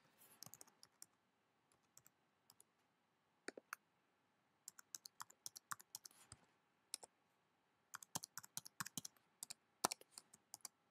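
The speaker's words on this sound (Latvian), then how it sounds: "Tagad ievedam jūsu e-pasta adresi." Keys clacking on a computer keyboard as an email address is typed into an iTunes Store account form, with short bursts of close, crisp clicks separated by brief pauses.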